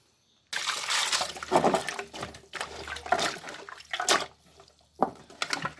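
Green beans, about 300 grams, being rinsed and cleaned by hand in water at home, with splashing and trickling bursts in several separate rounds, close and fairly clear.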